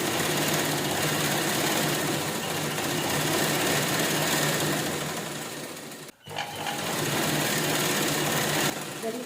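Sewing machine stitching a small pocket onto a garment, a close, steady mechanical whirr with rapid needle chatter that stops briefly near the middle and then resumes, running alone without talk.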